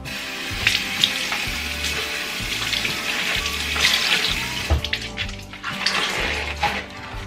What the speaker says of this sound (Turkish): lavabomu şimdi bol su kullanarak durulayacağım